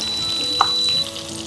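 Steady sizzling of thuja leaves, garlic and asafoetida frying in hot mustard oil, with a single sharp clink of a utensil partway through.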